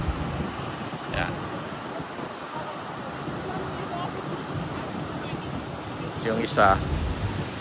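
Waves surge and crash with a constant roar at the Natural Bridge in Aruba, mixed with wind buffeting the microphone, while a voice speaks briefly near the end.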